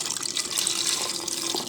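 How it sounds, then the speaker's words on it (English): Beef broth, about 32 ounces, pours steadily into a stew pot of browning meat, a continuous close splashing gush with faint bubbling and no talk. "so I'm going to add some beef broth"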